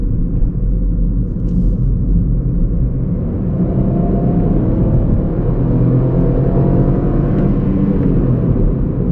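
A Ford Fiesta ST-Line with a 1.0-litre 100 hp EcoBoost turbo engine accelerates hard from standstill, a loud, continuous close engine roar and road rumble heard from inside the car with a rising whine.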